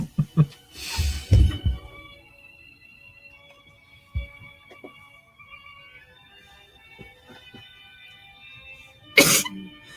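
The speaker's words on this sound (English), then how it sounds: "Bless you." A single sharp sneeze bursts out near the start, followed by quieter throat sounds and faint murmurs, with another brief loud burst near the end, heard in a live studio stream setting.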